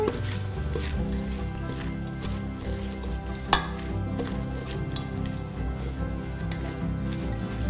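Quinoa is stirred into tabouli in a pan, with a soft continuous sizzle and scraping mixing sounds, plus one sharp clink of utensil on pan midway.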